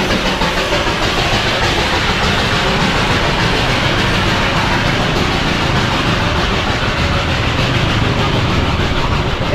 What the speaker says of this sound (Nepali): toy train the world heritage